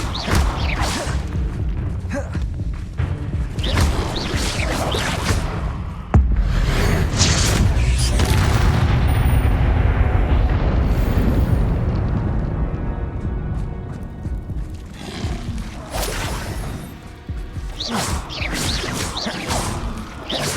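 Rapid spell blasts, Incendio and Descendo, in Hogwarts Legacy on Xbox Series S: loud repeated booms, crashes and whooshes in quick succession, with a long rumbling barrage midway, followed by more scattered impacts.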